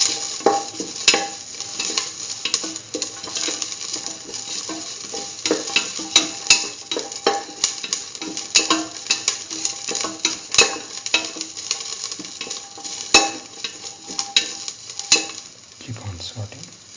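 Green chili and salt sauté in a frying pan with a continuous sizzle, while a utensil stirs and scrapes and sharp metallic clicks and taps sound throughout, close and fairly loud, with no talking.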